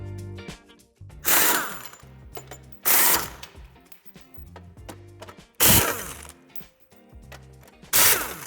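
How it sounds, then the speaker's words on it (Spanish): Power tool removing screws from the metal bumper reinforcement of a 2020 Audi A3 sedan, four loud bursts of whirring spaced a couple of seconds apart, with quieter mechanical clicks and hum between them, close by. "Quitaremos el refuerzo metálico con 4 tornillos a ambos lados."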